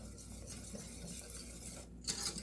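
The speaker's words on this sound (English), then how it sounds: "You have to make sure that you're mixing it all the time, so then that way your cheese sauce doesn't stick and burn to the bottom of the pan." Cheese sauce being stirred in a pan, with a soft, steady scraping and swishing of the utensil against the pan bottom under a faint background hiss, close and quiet, with no talking.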